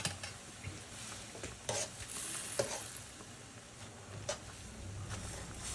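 Egg noodles simmer and sizzle in a pan with a splash of cold water over medium heat, giving a steady, moderately loud hiss broken by a few brief stirring scrapes.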